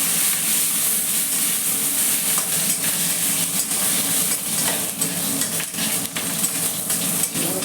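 Green chillies and kharkol leaves fry in a hot pan with a loud, continuous sizzle and hiss, broken now and then by stirring and scraping against the metal.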